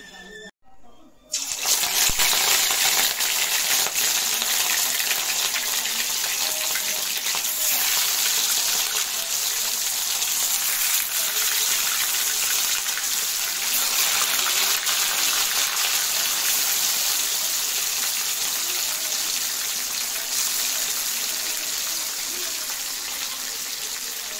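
Pieces of rui fish fry in hot oil in a pan, a loud, steady hiss and sizzle that starts abruptly after a brief pause and carries on unbroken, easing slightly toward the end.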